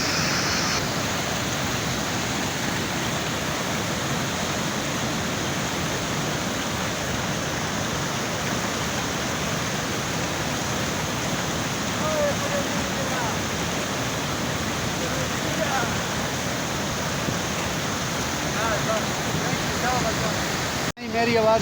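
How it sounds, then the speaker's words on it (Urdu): A loud, rushing mountain stream, the Saiful Muluk nala near Naran in northern Pakistan, roars steadily and close up without a break for the whole stretch. "تو یہ سپٹ نالہ ہے جو آتا ہے ناران، سپٹ ویلی سے"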